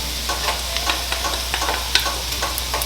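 Garlic sizzles steadily in a frying pan over medium-low heat, a dense crackling hiss with small irregular pops and stirring scrapes, close and loud with no talking.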